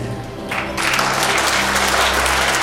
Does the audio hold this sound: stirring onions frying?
no